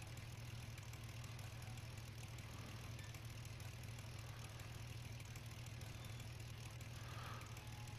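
A pickup truck idles steadily in Farming Simulator 19, a low, even engine rumble that holds constant and close throughout with no voices.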